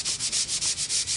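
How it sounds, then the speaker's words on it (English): Sandpaper rubs boat gel coat down to a frosty finish in steady back-and-forth strokes, about eight quick rhythmic passes, close and clear with no talking. "just sand those to the frosty finish"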